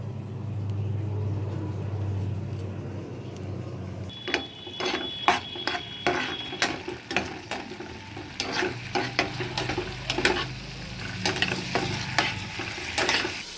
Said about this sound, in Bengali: এই সসগুলো খুব ভালো করে আমি একটু মিশিয়ে নেব।